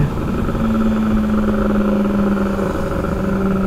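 A Kawasaki ZX25R motorcycle's engine screams at high revs while speeding on the road, a loud, steady, close drone with a slight pitch shift midway and constant wind rush.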